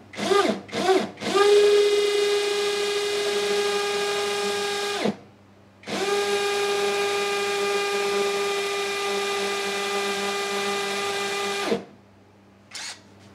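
A power drill set to hammer mode fires in a few short bursts, then runs in two long, loud, sustained whirring spells with a rattling buzz. A short pause separates the two runs, and a faint blip follows at the end.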